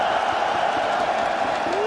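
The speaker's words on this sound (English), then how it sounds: "If you're cheering for Na'Vi, let's go!" An arena crowd at the CS:GO PGL Major Antwerp grand final cheers for Na'Vi in a steady, loud, dense roar lasting the whole short stretch.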